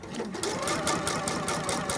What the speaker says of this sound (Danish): Og så fortsætter jeg bare med at sy uden stof i maskinen